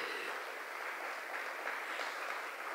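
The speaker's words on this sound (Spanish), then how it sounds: "Yo le daría un aplauso al Señor" Steady applause fills a church service, a dense, even wash of clapping from a congregation that holds at a constant level throughout, with no voices standing out.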